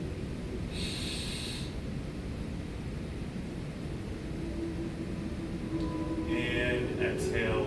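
Slow, deep inhales and exhales during a relaxation breathing exercise, heard as a long, airy rush of breath that rises and falls steadily and sits close and fairly loud.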